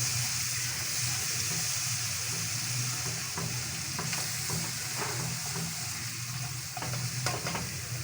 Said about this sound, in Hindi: 1 चम्मच लहसुन का ऐड करूँगा और इसे थोड़ी देर के लिए भुनेंगे।